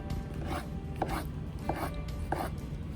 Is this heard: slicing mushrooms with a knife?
yes